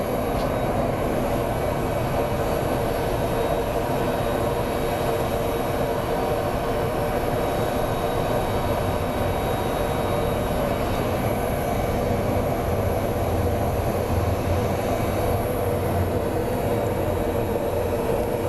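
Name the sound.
Allegiant airliner landing at Phoenix Sky Harbor airport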